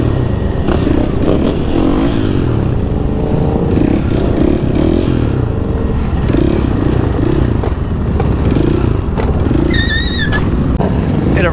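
A 300 cc motorcycle accelerates hard for a wheelie: a loud, close engine revs up through rising pitch sweeps and stays loud throughout, with clatter and rattling mixed in.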